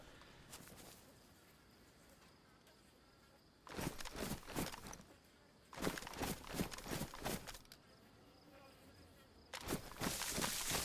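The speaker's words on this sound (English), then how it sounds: "The bush making the flies noises." Video game flies buzzing around a bush come in several loud bursts, like flies circling close, separated by quieter stretches of faint background hum.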